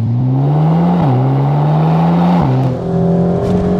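SEAT Leon Cupra ST estate car driven hard on mountain roads, its engine loud and close, rising in pitch through gears with quick drops at each shift, tyre and wind roar underneath.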